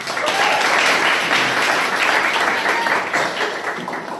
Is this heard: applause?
yes